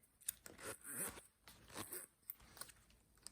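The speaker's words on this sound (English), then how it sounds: "As you can see, the zipper is smooth, so that's nice." Plastic zipper on a Lululemon Everywhere Belt Bag being opened and closed with a metal pull, giving close, quiet zipping strokes in several short bursts with brief pauses between them.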